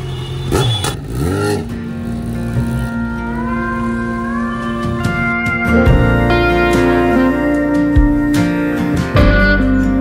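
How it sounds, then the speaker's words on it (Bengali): A motorcycle fitted with a titanium exhaust revs loudly and steadily as it rides up a ramp, its engine pitch climbing and holding close by. "And it's a titanium exhaust. তো ফাইনালি অ্যাক্রোবুককে বাই বাই করার সময় চলে এসেছে, আর বাইক যাচ্ছে এখন র্যাম্পে।"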